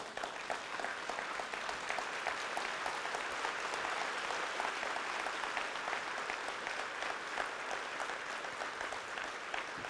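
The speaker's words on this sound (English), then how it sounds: "give a big applause" Large seated audience at a talk on relationships giving sustained applause, a dense, steady roar of clapping from many hands that stays level and unbroken for the whole stretch.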